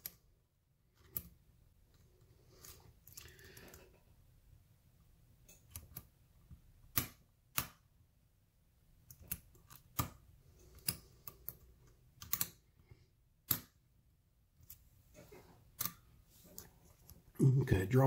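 Small metallic clicks and ticks come from a lock being picked, pins setting and dropping in scattered, sharp taps over a quiet background, with a few brief bits of soft talk near the end.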